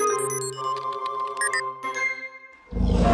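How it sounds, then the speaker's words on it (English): A cartoon dinosaur-like roar sound effect bursts in loud and gravelly at the end, after a stretch of bright chiming, tinkling music; no speech. "And that sounded like a dinosaur."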